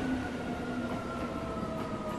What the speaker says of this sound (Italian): Il treno si ferma!